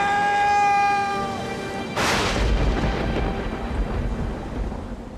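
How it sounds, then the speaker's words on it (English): Thunder on a mountain at night during a worsening storm: a sharp crack breaks in, then a long low rumble rolls on beneath steady rain-like hiss, after a sustained tone fades out. "As night falls, the storm gets worse."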